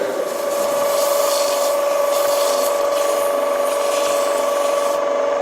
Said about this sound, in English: you want to stop the lathe, and run your sandpaper across the grain